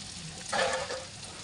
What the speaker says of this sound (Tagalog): Gisahin muna natin ang ating sibuyas.